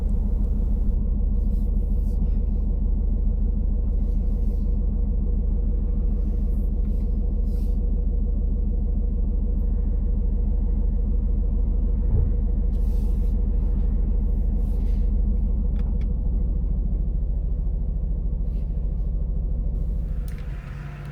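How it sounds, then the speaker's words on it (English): A car rolls slowly into a parking spot beside a Lotus Emira, its engine a steady low rumble close by that stays even throughout and eases off at the very end. "I'll just park up here next to the Lotus."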